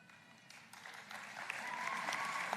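Graduation ceremony audience cheering section at a university commencement, applause swelling from quiet scattered clapping into a denser, louder round over a couple of seconds, heard at some distance.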